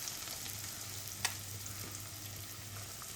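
Chopped onions hit hot coconut oil and fry with a steady, soft sizzle throughout, one brief clatter partway through, no voices.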